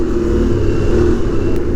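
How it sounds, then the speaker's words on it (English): Motorcycle fitted with a loud Yoshimura aftermarket exhaust, a steady close engine drone with a deep, throaty low end, loud and sustained with no talking. "he's got that Yoshimura exhaust on there, and it is so freaking loud"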